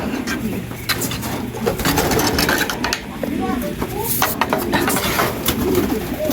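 Racing pigeons coo at the loft, soft repeated low coos under people talking nearby, with outdoor background noise and a few sharper sounds.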